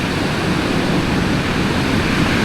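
Ocean surf at a beach in Maui, a loud continuous wash of crashing waves filling the whole stretch, steady and close, with no voices over it.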